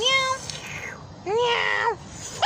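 A cat in a garden meows loudly and close by, giving two drawn-out meows followed by a short clipped one at the end.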